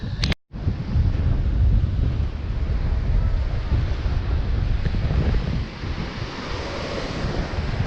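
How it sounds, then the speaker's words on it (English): Rough ocean surf crashes on St George Island beach while strong wind buffets the microphone, a loud continuous roar of waves and gusts after a brief dropout at the start. "The ocean's a little angry for me to be getting in it"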